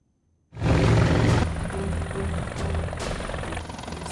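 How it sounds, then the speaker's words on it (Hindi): A helicopter lands at a sports stadium in Etawah: a loud rotor roar starts abruptly and stays dense and close, easing slightly as it settles, with high whining turbine tones above the churning blades. "सीएम योगी का हेलीकॉप्टर आज यादव परिवार के गढ़ यानी इटावा में उतरा।"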